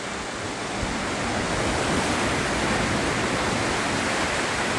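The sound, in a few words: waves breaking on a beach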